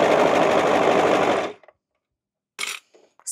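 A sewing machine stitches a cocoon cardigan in a loud, fast, steady whir for about a second and a half, then stops abruptly, followed by a few light clicks and small handling noises.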